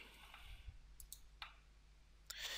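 Computer mouse clicks while working in AutoCAD: a few sharp, quiet, isolated clicks spaced irregularly over a hushed background, with no speech.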